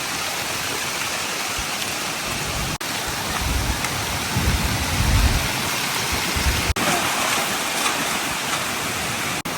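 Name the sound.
heavy rain falling with wind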